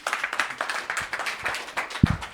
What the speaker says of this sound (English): Please give Ben a huge round of applause